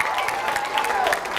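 Brief audience applause at a Harvard Park event, a short burst of steady clapping with faint crowd murmur.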